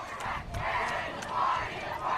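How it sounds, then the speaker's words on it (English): High school football crowd on third down, a loud muffled roar of cheering and stomping feet that swells in waves, some distance away. "crowd stomping their feet, making sure to get loud"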